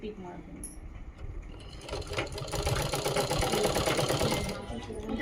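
A sewing machine stitches a double finishing seam along the side of a canvas-lined neckline, starting softly and then running in a fast, steady mechanical rattle that grows louder toward the end.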